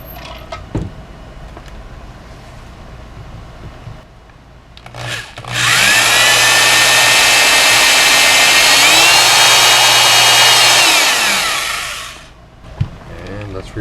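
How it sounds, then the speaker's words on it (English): A power drill whines loudly for several seconds, drilling out a broken strap button screw on a Jazzmaster guitar, steady and high-pitched, with a brief pitch shift midway before winding down. "we're going to drill around this screw"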